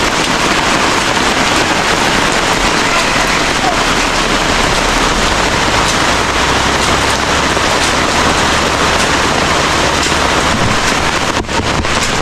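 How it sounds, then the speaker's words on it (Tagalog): Heavy rain pouring down in a dense, constant hiss with wind buffeting the microphone, loud and continuous throughout, with a brief dip near the end. "Grabe ulan."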